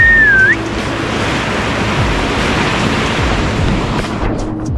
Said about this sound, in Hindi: दोस्तों इस विशाल माउंटेन के बीच से गुजर रहा है सिंधु नदी